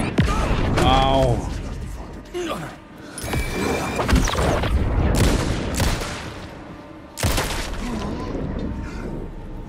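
Bursts of Alan Wake 2 gunfire crack and boom across the stretch, with a brief lull midway, mixed with a talking voice and clattering effects.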